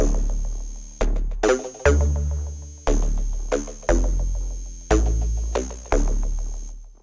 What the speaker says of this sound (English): I added a second bass on top of this, so it sort of sounds like this.